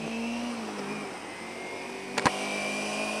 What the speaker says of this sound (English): I'm trying to keep my engine from going out.